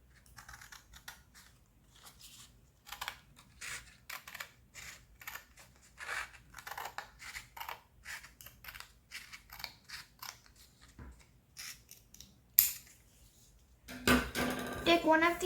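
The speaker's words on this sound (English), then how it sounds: "take a pair of scissors" Scissors snipping through square green craft paper, a string of short crisp cuts in an uneven rhythm with quiet gaps between them, close by, followed by a brief rustle of paper handling at the end.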